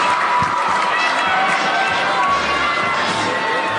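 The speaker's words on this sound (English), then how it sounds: "It is a packed house here at Larson Ice Center, and the crowd is really getting into it." Packed-house crowd at Larson Ice Center roaring and cheering during a championship hockey game, a loud, continuous wall of voices that swells steadily with no break.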